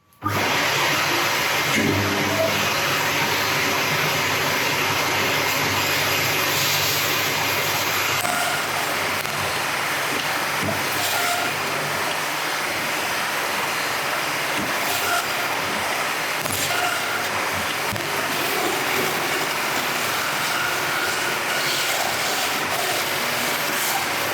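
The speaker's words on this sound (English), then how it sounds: "I'm gonna get this onto the bandsaw, cut away a couple of the bad pieces, and then split this in half" A bandsaw runs through a yew crotch log in a long, loud, unbroken roar of blade and motor, with a thin high whine over the first several seconds, all heard close and without speech.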